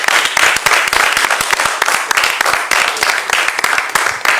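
A game-show audience applauds contestants as they return to their seats, a loud, dense burst of many hands clapping rapidly and continuously without pause.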